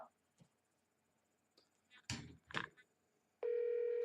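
A phone held next to a computer during a podcast call gives a steady, loud electronic ring tone that starts abruptly near the end, after a few soft knocks and handling bumps in an otherwise quiet room.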